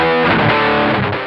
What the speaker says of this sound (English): The rhythm channel also includes a crunch switch, which adds a significant gain boost to add extra weight and tonal options.